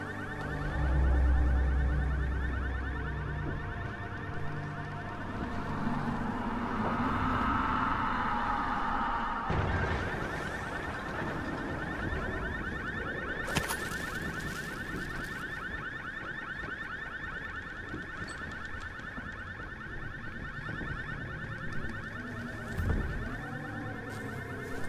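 In the video game Dying Light, an alarm blares continuously as a steady, penetrating electronic tone over game ambience, with occasional bumps and impacts.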